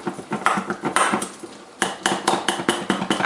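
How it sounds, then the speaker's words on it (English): Cold balls of Pecorino Romano cheese are broken up in a bowl of egg for soup, giving steady, close metallic tapping and clinking in quick irregular bursts. "You hear the tapping because I'm breaking up the cold balls of Pecorino Romano."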